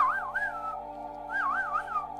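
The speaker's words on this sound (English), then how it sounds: "So I have to whistle back to the pets." A person whistles back to a pet bird indoors: two bursts of warbling, rising and falling whistle, close and clear, separated by a brief pause over a steady low hum.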